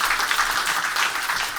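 An audience at a technical tutorial session gives a brief, fairly even patter of applause after a software demo.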